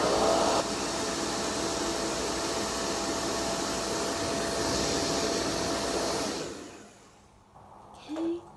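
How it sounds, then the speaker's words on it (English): A hair dryer blows steadily on false eyelash glue, a loud, close, continuous whoosh that runs for several seconds before switching off, leaving near silence with a brief faint sound at the end. "I can use my hairdryer to do that."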